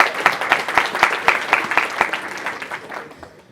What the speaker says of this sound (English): a big round of applause for everybody that's here